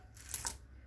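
A small coin drops onto a hard surface, giving a quick bright metallic clink and brief ring, alone and fairly quiet.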